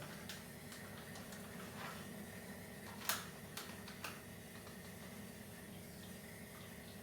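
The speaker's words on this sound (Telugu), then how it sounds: "చూసారు కదా, డ్రాప్స్ వస్తుంది." An RO water purifier releases a few separate drips, sharp faint ticks spaced about half a second apart over a quiet background hum.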